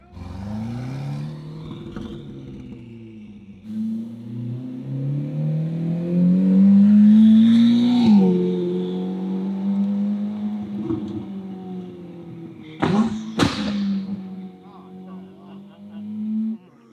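A Ferrari SF90 with a full Ryft exhaust revs hard and close, its engine note climbing and falling through long pulls. Sharp pops and bangs near the end accompany shooting flames, and excited voices react over it.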